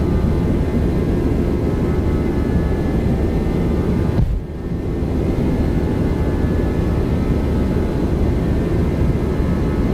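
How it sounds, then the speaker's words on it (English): A Boeing 737-800 jet engine roaring through a takeoff roll in the X-Plane 12 flight simulator, a loud constant broadband rumble that dips briefly midway before resuming at full strength. "Thrust set."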